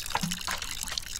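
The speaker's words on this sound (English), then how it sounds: "Get some water on it." Water is poured onto a freshly planted seed in a potting pot in the Botany Manor video game, a short soft trickle and splash heard up close without any talking.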